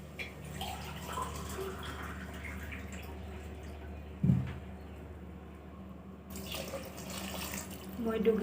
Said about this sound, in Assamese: এতিয়া মই ইয়াত পানী দিম।